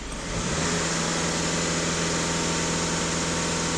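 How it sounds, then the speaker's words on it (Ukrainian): A VW Golf 7 2.0 TDI diesel engine held at full throttle, its loud, close drone climbing in the first half-second and then staying steady and unbroken. "Даю газ в пол."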